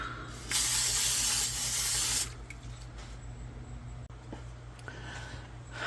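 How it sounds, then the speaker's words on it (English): A cooking oil sprayer releases a steady hissing spray onto breaded chicken in an air fryer for about two seconds, then stops, leaving a low background hum. "Let's go ahead and spray that."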